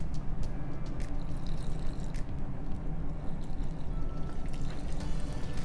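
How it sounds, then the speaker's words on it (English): Water pours in a steady, close stream into flour for no-knead bread, over a low background rumble, with a few small clicks and drips. "and then we're going to add our water."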